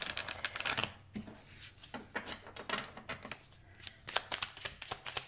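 Tarot cards being shuffled and drawn, a run of quick papery riffles and flicks that come in bursts and then sharper single snaps, close to the microphone with no talking.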